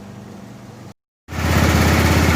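A 1988 Club Car golf cart's small engine idles with a steady buzzing putter, briefly cut to silence and then returning louder and close, running on its own.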